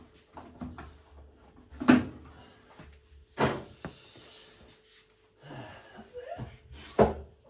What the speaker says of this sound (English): So drawer out.